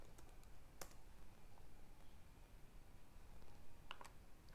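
Someone types an email address and password on a computer keyboard: faint, sparse key clicks with a few sharper taps over a low, steady background hiss. No one speaks.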